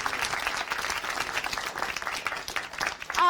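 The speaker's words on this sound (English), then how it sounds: "if we could really quickly just give a quick applause to everybody" Quick burst of audience applause at a documentary storytelling event, many hands clapping loudly and unevenly for a few seconds before it begins to thin out.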